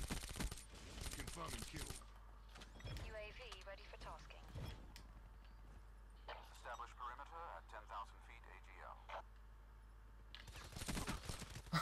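Automatic weapon fire from Black Ops 3 on PS3 comes in dense bursts at the start and end, with a player talking and laughing through the quieter middle stretch.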